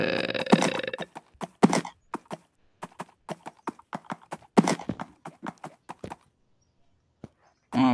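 Donkey hoofsteps in the Minecraft video game, a quick run of sharp clip-clop taps in uneven bursts, close and fairly loud, with short gaps and a brief grunt-like noise near the end.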